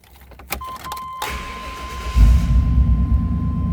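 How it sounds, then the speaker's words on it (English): A 1995 Chevrolet Tahoe two-door 4x4 with a 350 engine starts up. Key clicks and a chime come first, then a short crank, and the engine catches into a loud, steady idle rumble. "Let me grab the keys. I want to fire this up."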